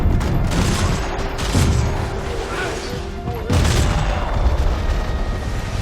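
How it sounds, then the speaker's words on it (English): Gunfire and explosions from a Max Payne firefight form a dense, continuous barrage of shots and heavy booms, loud throughout with a stronger blast near the end. "Firefights are intense at normal speed and bullet time."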